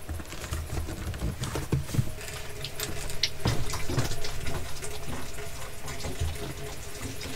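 Water runs steadily through RV plumbing at a low flow, with a continuous rushing hiss, broken by occasional knocks and clunks in the pipes.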